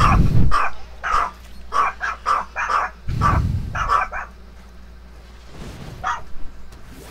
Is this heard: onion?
no